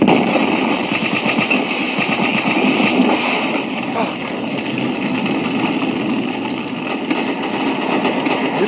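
Rapid automatic gunfire from the World War Heroes video game rattles on loudly and almost continuously, with dense overlapping bursts throughout and a brief dip partway through.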